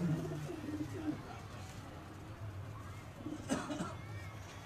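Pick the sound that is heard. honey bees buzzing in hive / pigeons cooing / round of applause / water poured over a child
pigeons cooing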